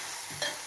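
Lentils (dal) frying and being stirred in a pan, a soft sizzling hiss with one brief louder scrape of the spoon partway through, close and steady with no talk.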